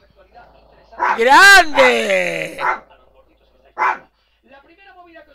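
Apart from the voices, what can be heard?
dog barking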